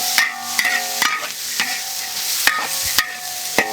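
Green chili peppers are stir-fried in a wok with ginger, garlic and pickled chilies, a metal spatula scraping and clanking against the pan in quick, irregular strokes over a soft sizzle.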